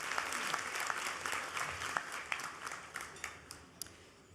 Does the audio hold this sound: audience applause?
yes